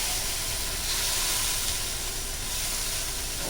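Onions and brown sauce hiss and sizzle steadily in a hot wok, a loud, even frying noise that fills the whole stretch with no talking.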